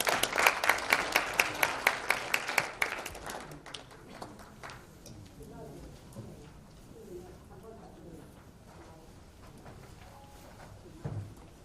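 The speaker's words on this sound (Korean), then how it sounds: "여러분 뜨거운 박수로 환영해 주시면 고맙겠습니다." Audience applause welcoming a speaker at an international forum on North Korean human rights, marking the 70th anniversary of the Universal Declaration of Human Rights. Sharp, rhythmic claps ring out for about three seconds, then fade beneath murmuring and low talk.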